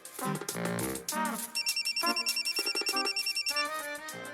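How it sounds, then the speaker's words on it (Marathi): A mobile phone ringtone rings loudly in a home, a repeating melodic electronic tune pulsing in quick beats for several seconds, with a brief musical phrase and background sounds before it. "फोन वाजतोय."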